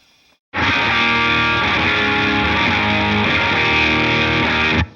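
A loud, heavily distorted electric guitar rings out through a high-gain amp simulator, a sustained saturated chord held steadily after a brief silent start.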